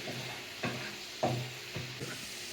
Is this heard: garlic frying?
yes